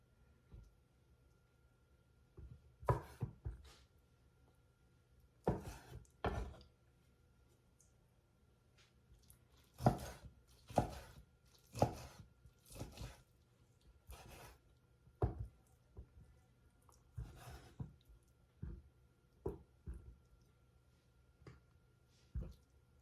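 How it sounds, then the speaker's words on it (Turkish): A knife chops lamb tail fat on a board in irregular bursts of dull, soft thuds, quiet and close, with pauses between groups of cuts. "Şöyle güzel bir doğrayayım."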